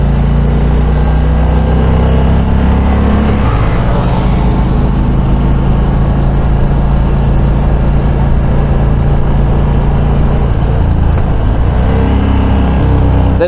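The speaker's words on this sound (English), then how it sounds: "That engine braking is nice and smooth." A 2022 Indian Chieftain touring motorcycle rolls off the throttle while riding, its engine droning steadily and loudly under heavy wind rush, with the engine note shifting as it slows under engine braking.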